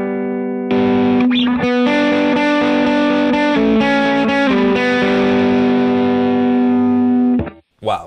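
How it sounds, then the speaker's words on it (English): Bass guitar run through a Lauren Audio Mustang GT pedal with every knob at noon, giving a thick, distorted, sustained line of notes that plays loudly and continuously before cutting off near the end. "Now the Mustang, everything at noon."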